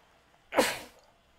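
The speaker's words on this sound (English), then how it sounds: "hold on, I got to sneeze." A single loud sneeze close to the microphone, a sharp burst that trails off within half a second, with quiet room tone before and after.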